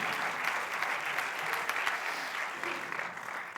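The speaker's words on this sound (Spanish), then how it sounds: "un aplauso para esta mujer." Audience at a keynote lecture on addiction recovery bursts into sustained applause, a dense, even patter of clapping from a sizable crowd heard at moderate distance.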